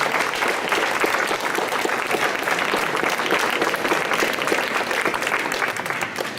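Audience applause at an art salon in Pontoise, a dense, steady clapping from a crowd that holds at even loudness throughout and fades only slightly at the end.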